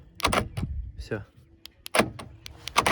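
Door lock of a VW Golf 5 Plus car being locked and unlocked, giving several short sharp mechanical clunks and clicks in quick succession, close by, with someone talking between them.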